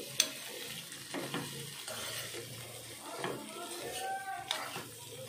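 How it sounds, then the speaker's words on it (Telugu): Cluster bean and garlic curry stirred in a pan, with a soft sizzle and a few spoon scrapes and knocks against the metal, fairly quiet and close. "ఒకసారి కలుపుకుందాము"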